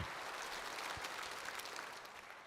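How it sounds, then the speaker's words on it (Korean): Faint congregation clapping in a church during a Korean sermon service, a soft diffuse wash of many hands, distant and quiet, tapering slightly toward the end. "완전하신 주님 앞에 여러분 박수합니다."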